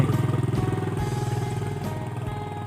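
A motorcycle riding along a mountain road in Laos: a steady, close, pulsing engine drone at even speed that holds throughout, with no voices.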